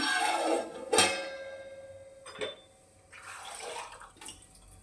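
Water splashes and trickles onto a metal lid covering steaming ridge gourd curry in short bursts, with a couple of sharp clinks, close and fairly quiet.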